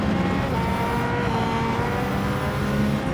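Porsche race car in Gran Turismo 7 roars past in a steady, loud engine drone, with other car engines layered underneath and no talking.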